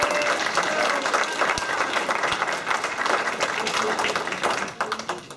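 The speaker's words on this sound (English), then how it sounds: "Applause for Sue." An audience at a gathering bursts into dense, sustained applause, many hands clapping close and loud for several seconds before tapering slightly, with a few voices murmuring underneath.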